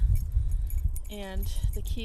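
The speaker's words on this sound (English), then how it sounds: "somebody asked me why I put the keys" Metal keys hung in a suburban vegetable garden to deter birds jangle and clink in a brief cluster, with a person speaking over them outdoors.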